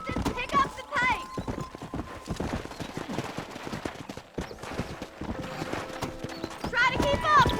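Horses galloping in the video game Red Dead Redemption, rapid clip-clop hoofbeats running steadily throughout with an occasional whinny, under a voice talking over much of it.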